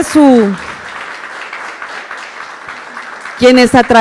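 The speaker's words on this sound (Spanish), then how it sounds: "Solicito a la audiencia poder brindarles un aplauso fuerte y caluroso a nuestros invitados" An audience at a public-service ethics panel applauds its guests, steady clapping for about three seconds between a woman's speech at the start and her voice returning at the end.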